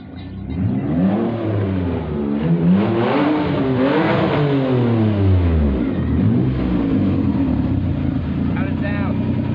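A car engine fitted with a new muffler revs up and down repeatedly, with the pitch rising and falling in sweeping waves. The sound is close and loud throughout, and voices are mixed in with the engine noise.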